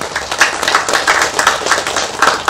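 Dense clapping from an audience at a film's thank-you event, steady overlapping hand claps filling the room with a few louder bursts, no talking.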